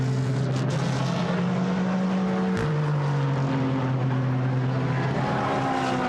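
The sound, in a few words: GT race car accelerating out of Silverstone pit lane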